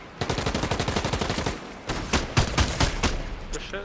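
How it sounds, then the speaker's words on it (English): Rapid bursts of video game gunfire, a steady automatic stream followed by several heavier, louder shots, sharp and close, with no voices. "They're gunshots."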